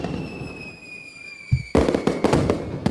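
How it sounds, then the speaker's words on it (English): Fireworks going off, a quiet high tonal whine at first, then a run of sharp crackling bursts and pops in quick succession, loud and close. "I added more fireworks"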